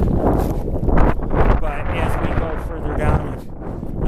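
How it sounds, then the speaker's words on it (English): Strong wind buffeting a microphone on a mountainside, loud gusty rumbling and blustering that rises and falls throughout, with a voice talking underneath. "The winds are whipping."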